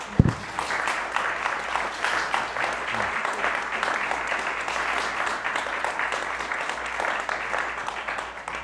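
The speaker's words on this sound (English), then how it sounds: "Let's give another round of applause to our panelists." Audience applause for panelists at a talk on conservatives and the built environment, sustained even clapping lasting several seconds at a steady level.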